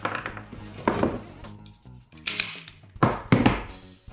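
Heat shrink tubing for cable lugs being cut, during wiring work on a 1974 VW Super Beetle Tesla EV conversion: several close, sharp snips and clunks in irregular bursts, with quiet gaps between.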